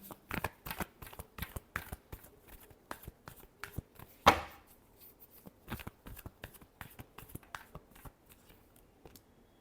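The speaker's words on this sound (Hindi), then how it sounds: "last shuffle" Tarot cards being shuffled in a series of crisp, rapid riffles and taps, one louder snap midway, close and alone with no talk.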